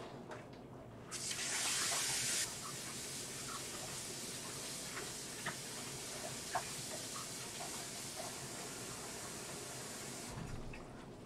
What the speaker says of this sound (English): I will just go rinse my hands off